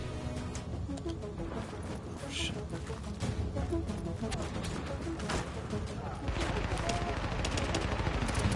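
Dense gunfire in the shooter The Division, set in New York City: continuous overlapping bursts of automatic fire throughout, growing heavier toward the end, with a voice talking underneath.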